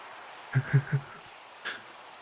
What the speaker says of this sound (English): And of course it has to be raining.